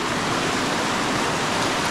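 A strong river current rushes steadily, a dense, continuous roar of flowing water with no voices over it.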